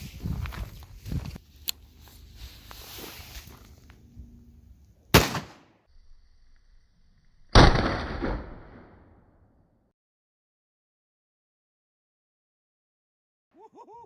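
Shotgun firing standard Winchester slugs at an outdoor range, two loud sharp blasts a few seconds apart, each with a short echoing tail, followed by near silence.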